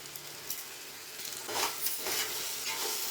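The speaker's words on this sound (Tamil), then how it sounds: "அடி பிடிக்காத மாதிரி நல்லா கொஞ்சம் கிளறி விட்டுங்க" A spoon scrapes and stirs kada mandi biryani in a pot, with a soft steady sizzle underneath and a few louder stirring strokes near the end.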